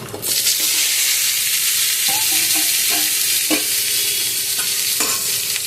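Ridge gourd, pointed gourd, drumstick and green banana hit hot oil in a wok with a loud, continuous sizzle, while a spatula scrapes and knocks against the pan in occasional distinct strokes.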